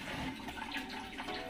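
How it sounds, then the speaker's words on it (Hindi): Water from an electric motor pump pours steadily into a storage tank with low water, making a continuous rushing, splashing flow heard close by with no talk. "अभी पानी आ रहा है"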